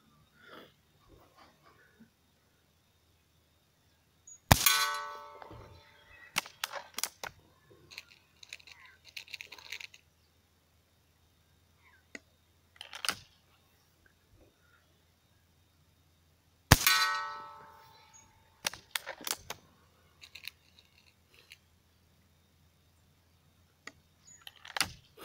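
A break-barrel air rifle firing pellets at a target 30 meters away: two sharp loud shots about twelve seconds apart, each followed by metallic clangs and rattles, with quiet gaps between.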